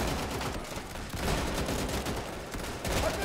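Rapid bursts of gunfire in the video game Easy Red 2, dense overlapping shots forming a continuous rattling barrage with no talk.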